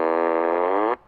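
A Tesla fart horn sound effect from the 2020 holiday software update plays as a single buzzy, droning blast about a second long. It cuts off abruptly and stands alone.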